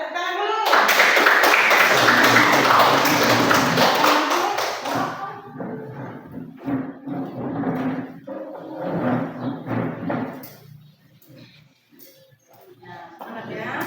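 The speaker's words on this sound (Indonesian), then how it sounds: "Ya, kita tepuk tangan dulu." A school class applauding for a group about to present, a dense burst of many hands clapping for several seconds, then fading into scattered claps and murmuring voices.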